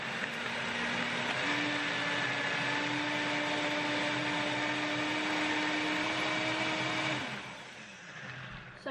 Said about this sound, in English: the blender I'm using is my Vitamix because there's just nothing better